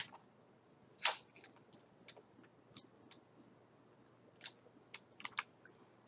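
Sharp, quiet mouse clicks come from a computer while video is edited in PowerDirector. One louder click sounds early, and lighter ticks follow irregularly in a near-silent room.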